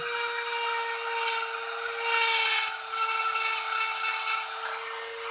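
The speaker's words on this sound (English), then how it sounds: "grind everything down." A copper pipe being ground and filed into a hair clip, giving a steady, close, continuous abrasive rasping with a sustained high tone and no talk.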